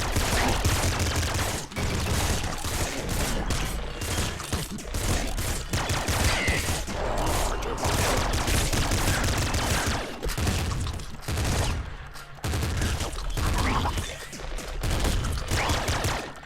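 Rapid gunfire from a splinter gun in the PC video game Nuclear Throne, a dense continuous fusillade of game shots and effects lasting throughout at high, steady loudness.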